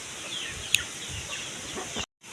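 Chickens in a coop give soft, faint clucks, with one sharp squawk standing out early, before the sound cuts off abruptly.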